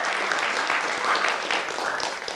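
Applause from an audience at a talk in Indonesia, a dense, loud, steady wash of clapping that fills the whole stretch without a break.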